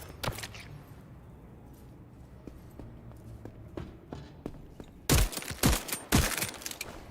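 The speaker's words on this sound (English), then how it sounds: "there's like a really like high frequency ping out of this gun" Gunfire from a drum-mag gun in the video game Voidtrain: light scattered footsteps and clicks, then a loud burst of several rapid sharp shots near the end.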